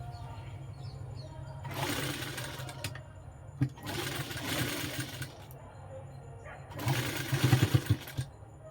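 A sewing machine runs in three separate stitching bursts, each lasting about a second or two, with quiet gaps and faint background noise between them.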